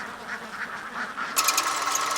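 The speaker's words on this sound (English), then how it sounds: "Similar is the case with the Chara and Chemballi ducks of Kuttanad, which is supposed to be the hardiest variety." Chara and Chemballi ducks of Kuttanad quack in a backwater setting, with soft scattered calls at first and then a louder cluster of raspy, overlapping quacks near the end.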